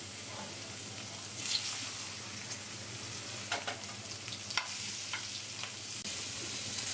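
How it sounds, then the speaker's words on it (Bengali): Fish pieces frying in hot oil give a steady, close sizzle throughout, broken by a few brief clicks and scrapes from the pan. "আগে মাছটাকে ভেজে নেব তেল গরম হয়ে গেছে দিয়ে দেবো মাছগুলো"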